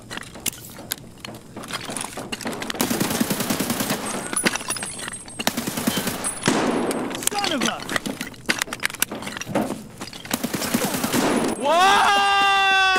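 Gunfire in Escape from Tarkov with bursts of rapid automatic shots and single cracks spread across the stretch. Someone shouts and talks excitedly over the shooting.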